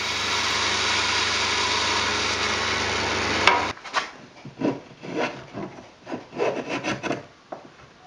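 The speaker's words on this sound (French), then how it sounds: "Les pieds sont mis en forme à la scie à ruban." A band saw shapes wooden workbench legs with a loud, steady whirring rush for a few seconds before stopping. A series of rhythmic wooden rasping strokes follows.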